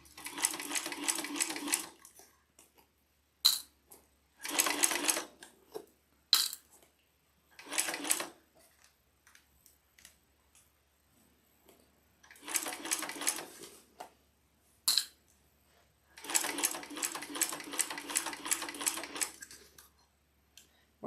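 A King Max cylinder arm industrial sewing machine stitches a shoulder bag in short bursts of fast, loud mechanical chatter, separated by quiet pauses and a few sharp clicks.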